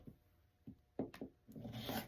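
Fabric half square triangle quilt block being trimmed, quiet scraping and rasping cuts in short separate strokes, the last one longer and louder, close by with no talking.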